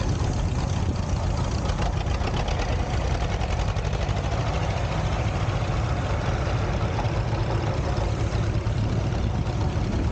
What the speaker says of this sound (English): Eugene Westland driving his John Deere H. 12 horsepower.